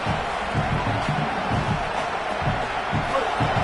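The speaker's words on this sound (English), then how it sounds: "The roar of the crowd trying to fuel this defense to keep them pinned in their own end" Crowd roaring in a stadium during a college football game in NCAA 27, a steady dense wash of cheering that holds throughout, with muffled thumps and commentary-like voices underneath.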